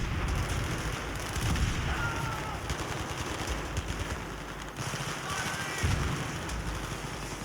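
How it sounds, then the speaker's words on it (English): Battlefield 3 gameplay fills the space with dense, continuous gunfire and rumbling blasts, including a grenade explosion, loud and sustained for the whole stretch, with no speech over it. "Can I throw a grenade?"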